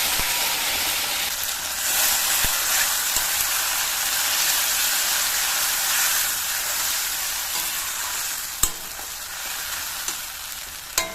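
Ground spice paste sizzles in hot oil with fried onions for a Bengali rohu fish curry, a steady loud hiss throughout with a few sharp clicks of a spoon near the end.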